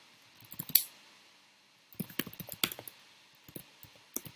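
Bursts of computer keyboard typing, close and crisp, with irregular clusters of key clicks separated by a short pause, no talk.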